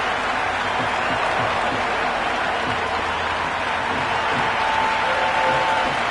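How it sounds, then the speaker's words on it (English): A raucous cricket stadium crowd in the video game Cricket 26 during a PBKS vs SRH match, a dense continuous roar of cheering and noise holding at an even, loud level throughout. "The crowd are really getting quite raucous."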